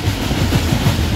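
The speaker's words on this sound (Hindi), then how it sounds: "ट्रेन का साउंड देखें, बड़ा प्यारा साउंड आ रहा है।" Interior of the Bahauddin Zakaria Express passenger train in motion in Pakistan, a loud continuous rumble with rhythmic clickety-clack wheel beats over rail joints, steady and close, with no voices.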